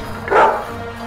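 A dog barks once, loud and close, in the video game Heir of the Dog, a single short yelp over a faint steady background hum.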